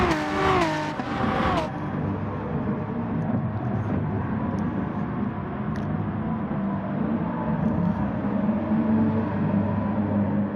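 BMW race cars at Red Bull Ring in Gran Turismo Sport give a steady, loud drone of engines, with several cars running close together and a brief higher whine at the start.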